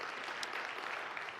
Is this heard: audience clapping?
yes